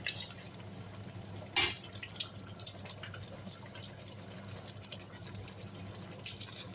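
Water added to a simmering Nigerian buka-style pepper stew with fish, heard as soft dripping and liquid splashes with a brief louder pour, close by and low in level, with no talking.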